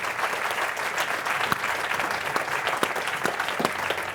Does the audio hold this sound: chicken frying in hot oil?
no